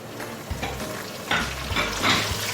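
Kalonji seeds and curry leaves crackle and sizzle in hot tempering oil for a baingan dish, with a steady hiss, bursts of spitting and a few low stirring knocks.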